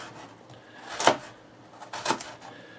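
A knife cuts vegetables into small half-moon slices for a colorful noodle soup, two soft knocks of the blade on a cutting board about a second apart, quiet and close.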